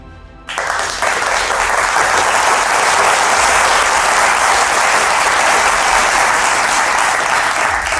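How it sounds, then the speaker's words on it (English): A large audience at a CEO felicitation event bursts into loud, sustained applause that starts abruptly and holds as a dense, even roar of clapping for several seconds. "let's have a huge round of cheer and applause"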